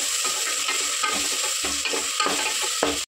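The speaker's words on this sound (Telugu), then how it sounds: "హాఫ్ కిలో మటన్కి నేను ఒక కప్పు వేసాను ఉల్లిపాయలు ఇది లైట్గా ఫ్రై చేసుకుందాం" About a cup of onions frying lightly in a pan for a half-kilo mutton curry with tender tamarind leaves, a steady close sizzle broken by soft stirring scrapes, with no voices.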